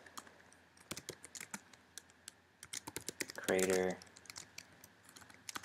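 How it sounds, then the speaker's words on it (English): Rapid clicking of a computer keyboard being typed on nearby, steady and fairly quiet, with a person speaking briefly partway through. "So let's type in website"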